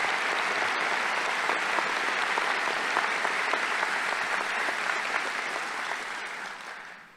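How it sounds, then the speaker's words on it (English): A large crowd at a medical school white coat ceremony claps steadily for several seconds, a dense, even patter that fades out at the end. "Let's give a round of applause to these outstanding individuals."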